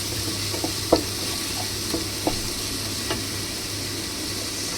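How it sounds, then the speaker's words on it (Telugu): Onions frying in a pan for crab curry, a close, even sizzle broken by a few sharp spatula taps and scrapes spaced about a second apart. "కలర్ చేంజ్ అయ్యే వరకు కూడా వేయించుకోండి."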